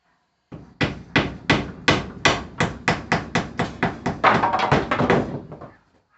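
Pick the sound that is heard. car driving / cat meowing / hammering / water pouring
hammering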